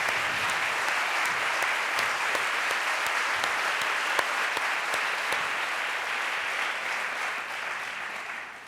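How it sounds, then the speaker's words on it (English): Sustained crowd applause for the Houston team at the 2013 Broad Prize announcement, a steady, evenly loud roar of many hands clapping with a few sharper claps standing out, fading at the very end. "Could the team from Houston please stand up and give them a round of applause?"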